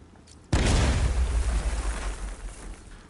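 A sudden loud explosion in the video game Batman: Arkham Knight bursts in after a brief quiet moment, then a deep rumbling roar slowly fades away.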